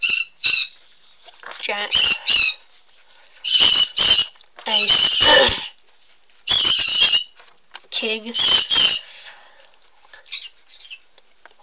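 Bright, shrill bird chirps burst in repeated clusters, close and loud, alternating with someone speaking in between.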